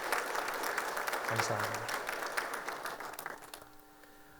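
A church congregation claps in encouragement, a warm burst of applause that fades out as a voice briefly speaks and soft organ-like tones come in.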